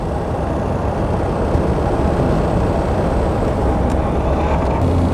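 A 1934 Mercedes 290 Cabriolet D drives along rural Bavarian roads, its engine and road noise forming a steady, loud, even rumble throughout with no talk over it.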